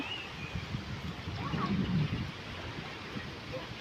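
Steady wind gusts before a nor'wester storm roar and rumble against the microphone, swelling in the middle and then easing off, with a faint voice in the background.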